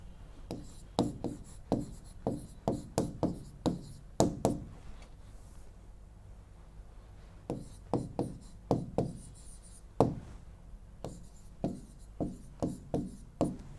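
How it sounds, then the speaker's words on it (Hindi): Strokes of a teacher writing on a board during a vocabulary class come in quick rhythmic bursts of scratchy taps, pausing briefly midway before resuming at the same pace, fairly quiet with no talking. "मैं दोबारा से लिख देती हूं।"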